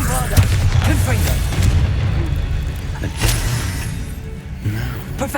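Spell blasts boom and crack in rapid succession during a Hogwarts Legacy battle, heavy thuds and shattering bursts piling over one another, with spoken voices woven between the impacts.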